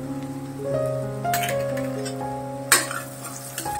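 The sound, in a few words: chopped capsicum added to sizzling onions in pan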